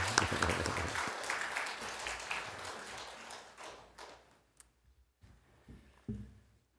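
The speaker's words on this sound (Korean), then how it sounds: "이렇게 뜨거운 박수로 환영해 주시기를 바랍니다" Warm applause from a church congregation welcoming a speaker at a Sunday service, loud at first, then thinning to scattered claps and fading into near silence with a few isolated taps.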